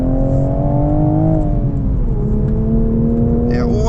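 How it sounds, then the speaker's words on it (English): A 2025 Toyota GR Supra Track Edition with manual gearbox, its engine note heard from inside the cabin with artificial sound piped in, a steady droning hum that dips and shifts pitch as revs change, loud and continuous. "there's fake sound coming through into the cabin"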